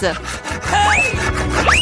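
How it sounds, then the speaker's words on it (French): A saw scrapes back and forth through a large Snickers bar, in uneven strokes, with rising squeaky whines over it. "Je pense que nous allons avoir besoin d'une scie."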